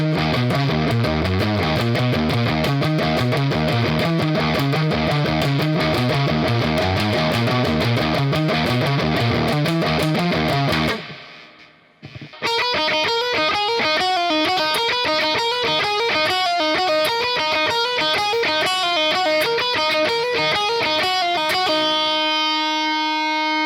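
Distorted electric guitar plays the DOOM Eternal intro riff, a fast heavy chugging pattern, then stops briefly before a second brighter picked section continues and rings out, loud and without talking.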